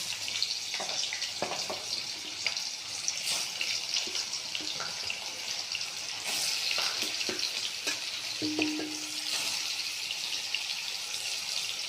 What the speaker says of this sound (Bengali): পনিরগুলো আস্তে আস্তে ভাজায় দিয়ে দেবো, অল্প লাল করে ভাজবো